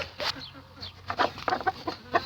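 A broody turkey hen, kept as a hatching hen beside chicks, gives a run of short, close clucks in uneven bursts, with quieter gaps between them.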